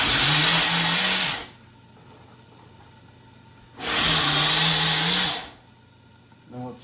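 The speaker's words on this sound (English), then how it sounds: "I'm going to run this through the" A Ninja blender whirs through sautéed ingredients for barbecue sauce in two loud, high-pitched bursts of about a second and a half each, separated by a quiet pause.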